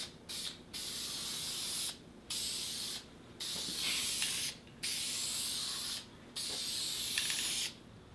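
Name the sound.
spray lacquer being sprayed on metal trim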